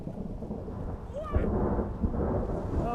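A thunderstorm rolls over an outdoor concert venue, with a deep thunder rumble swelling midway over steady rain hiss, faint voices and thin whistling tones in the background.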